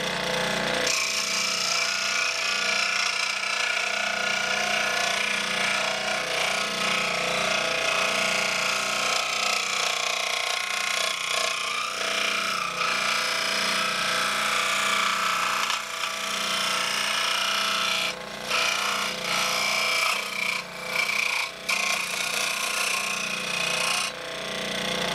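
A belt sander works the edges of a carbon fiber mold, with a shop vac hooked to it, giving a loud, continuous abrasive whine and grinding roar close by, with short dips as the tool is lifted.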